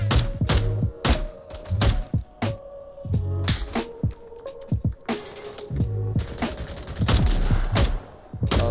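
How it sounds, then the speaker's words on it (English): Gunfire in the VR co-op shooter Onward, rapid sharp shots and bursts in close succession with thuds and clatter, loud and dense throughout. "Corey, you shot!"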